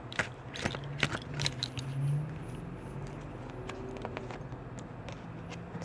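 A deck of tarot cards being shuffled by hand, with quick riffling bursts and soft card slaps near the start, settling into light handling noise.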